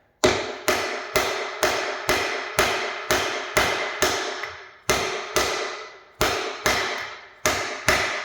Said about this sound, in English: You want to hit it fairly evenly as well, like. And you should hear the note change once it seats all the way to the bottom.